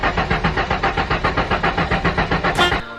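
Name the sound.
Ford Mustang car engine starting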